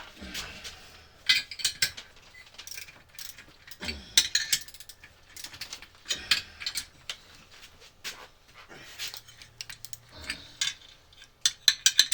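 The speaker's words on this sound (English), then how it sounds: "On my torque wrench. And tighten that baby up." A torque wrench tightening a bolt on a Reedjet during ignition timing work, heard as rapid ratcheting clicks in short bursts with pauses between, close and fairly crisp, with no talk over it.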